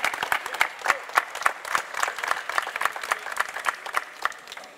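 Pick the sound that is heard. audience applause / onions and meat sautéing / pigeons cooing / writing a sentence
audience applause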